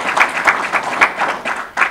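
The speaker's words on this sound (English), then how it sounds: "please give him a round of applause" A round of applause from an audience at a building rededication ceremony, a brief burst of many hands clapping with a pulsing, uneven rhythm and no talk over it.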